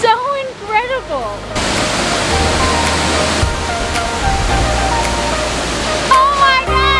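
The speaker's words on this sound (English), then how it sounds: "we are surrounded by like 7 different waterfalls right now" One of several waterfalls near Jardín, Colombia roars as a powerful, dense, continuous rush of water, loud and close, with people talking excitedly over it at the start and end.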